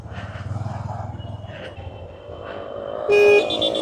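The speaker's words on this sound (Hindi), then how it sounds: "देखा हॉर्न एकदम मस्त बज रहा है।" A motorcycle horn, working again after a loose wire was fixed, gives one short, clear beep over the low idle of the engine, and brief bits of background noise come before it.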